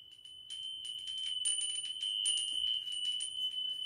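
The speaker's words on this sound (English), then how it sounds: "And I hung this little bell." Small hanging bell indoors ringing continuously in a room, a bright steady high tone with a shimmering overtone and light tinkling jingles layered on top, close and clear with no talking.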